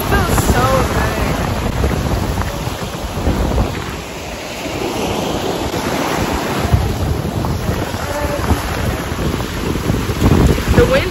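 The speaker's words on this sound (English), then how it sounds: "The wind is like blowing my hair." Wind blows at a Miami beach, buffeting the microphone in loud, gusty rumbles over a constant rush of surf, with brief lulls between stronger gusts.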